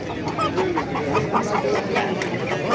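Roosters and chickens at a busy poultry market in Andijan, with a steady run of clucks and short calls against loud crowd murmur and nearby talk.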